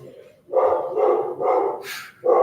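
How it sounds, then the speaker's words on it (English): A pet dog barks indoors in a string of loud, close woofs, three in quick succession, then a higher yelp and another bark. "obviously my dog starts barking"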